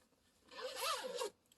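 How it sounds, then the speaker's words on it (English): A tote bag's zipper is pulled closed in one smooth, quiet run of about a second, its rasping teeth clearly audible against near silence. "So I'm just going to close the zipper here."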